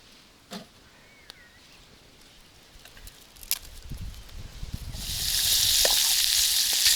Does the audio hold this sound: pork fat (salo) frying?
yes